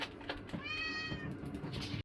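A cat meows once in a clear, drawn-out call close by, over a quiet indoor background.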